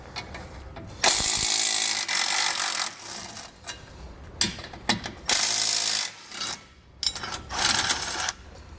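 A ratchet wrench clicks in repeated bursts removing 16mm bolts on a 2020 Jeep, several quick cranking runs separated by short pauses, close up and loud.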